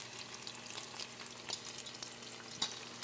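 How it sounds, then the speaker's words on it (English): Egg yolk tipped into a melted mixture in a pan sizzles and crackles steadily, a soft close frying hiss with small pops and no talking. "We're gonna dump our egg yolk into here."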